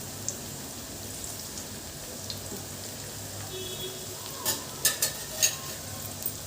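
Cauliflower florets for function-style gobi fry crackle softly in hot oil, a low steady sizzle with a few sharper pops and spatters near the end, no voices.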